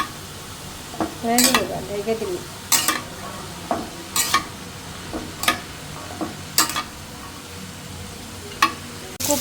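Potatoes with green chili, salt and ground spices are stirred in a frying pan: a steady sizzle underneath, with regular scraping spatula strokes about every second and a half, close and moderately loud.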